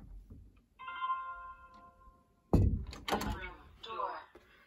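A bedroom door is opened, setting off a security sensor's chime tone, followed by a loud close thud and rattling handling noises.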